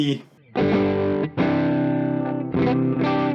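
Electric guitar through a Fulltone Full-Drive 1 overdrive pedal in CC mode gives loud, distorted sustained chords in three strong bursts, each ringing with a slight pulsing shimmer before a short break.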